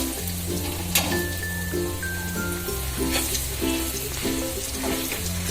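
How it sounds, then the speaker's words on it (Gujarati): Garlic chutney sizzles in a pan over a low gas flame, a close and steady frying crackle that runs throughout with no talk. "ગેસની ફ્લેમ સ્લો પર નાખશું સાવ, એટલે આપણી લસણની ચટણી બળે નહીં"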